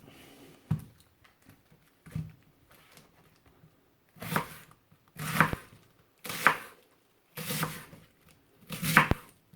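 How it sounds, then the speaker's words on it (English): A knife chops through cabbage on a board while sauerkraut is made: a few isolated taps, then a series of five regularly spaced, crisp crunching cuts. "just give them a chop through the middle"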